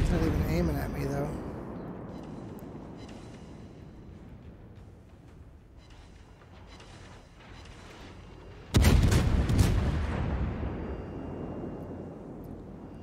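Battleship main-gun fire in World of Warships, starting as a fading rumble, then a single sudden, loud boom that rolls on and decays slowly, with someone talking at times.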